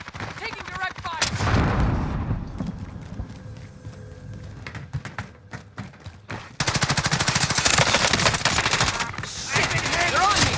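Automatic weapon fire and heavy shooting from Call of Duty: Modern Warfare, an early loud burst, sparser shots in between, then a sustained intense barrage in the second half, with faint voices mixed in.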